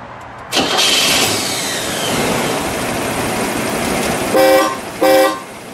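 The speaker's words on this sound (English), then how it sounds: "You know what I do need to hear, though, is I need to hear this horn" A 1958 Gaylord Gladiator engine cranks and catches, then idles steadily before two short, loud honks of a deep, brassy trumpet horn.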